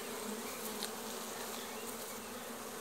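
Honey bees buzz steadily and close by while a beekeeper tends a weak colony and splits an old-queen hive into four, a dense continuous hum with no talking.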